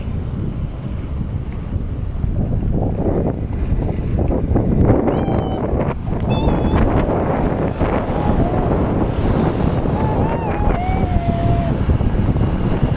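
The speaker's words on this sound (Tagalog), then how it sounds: "Ang lakas ng hangin!" Strong wind buffets the microphone in a constant roar, with faint distant voices and high squeaks faintly audible beneath it.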